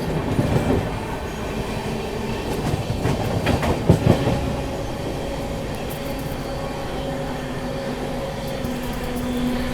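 Shiv Ganga Express (12559, Banaras to New Delhi) running alongside the Gorakhpur–Anand Vihar Terminal Humsafar Express, with a steady loud rumble and clickety-clack of wheels on rail joints throughout and a brief burst of louder clatter in the middle.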